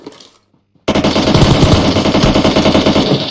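Automatic gunfire in the battle royale game PUBG Mobile: after a brief quiet gap, a loud sustained burst of rapid machine-gun shots rattles on without pause, close and dominant, with no talk over it.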